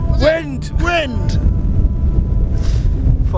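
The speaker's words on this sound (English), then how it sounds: "It's proper windy up here." Strong wind buffets the microphone on a Dartmoor hilltop, a loud low rumble that keeps going under and between voices talking nearby.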